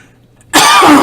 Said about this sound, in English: I do not have the coronavirus. It's a smoker's cough.